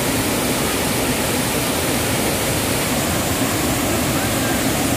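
Steady, dense roar of falling water fills the scene without a break, broad and loud like a powerful waterfall heard close by, a three-stream waterfall at Cikaso.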